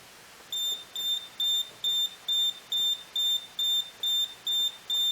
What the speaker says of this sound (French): Voilà, l'alarme s'enclenche.